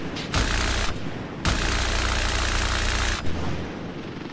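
A helicopter engine in WARDOGS drones low and steady beneath two long, loud bursts of rapid automatic gunfire separated by brief gaps.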